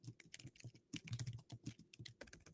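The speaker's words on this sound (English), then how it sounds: "Bro, what are you typing?" Rapid clattering keystrokes on a computer keyboard, close and fairly loud, in irregular bursts with short pauses and no talk over them.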